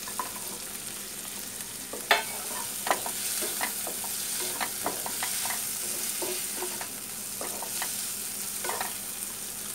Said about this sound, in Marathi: आता हे चांगलं फ्राय करून घ्या।